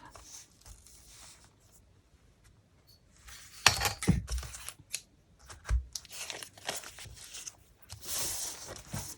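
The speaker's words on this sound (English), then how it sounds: "Maybe I can just tear it like this." Shopping receipt paper is torn by hand in several short, crisp rips and crinkles, close up and fairly quiet, with a near-silent stretch before the tearing starts.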